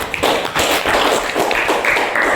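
Classroom applause from students for a classmate, a dense run of quick overlapping hand claps at close range that carries on steadily from start to finish.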